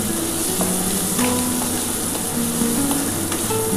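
Vegetables and sago fry in a pan for a fasting-day sabudana pulao, giving a steady close sizzle with soft stirring scrapes and no talk.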